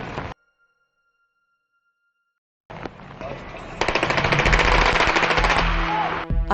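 Police commandos open fire during a hostage standoff on a hijacked tour bus in Manila, a loud rapid burst of gunfire that runs for a few seconds after a short silence, with a voice at the start.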